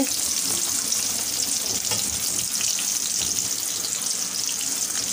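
Chopped onion and tomato fry in a hot pan with a loud, constant sizzle and crackle, close up, under light stirring that runs the whole time without speech.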